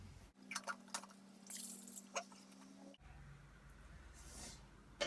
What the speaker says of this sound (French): Ensuite, un peu d'eau là-dedans pour rincer tout ça.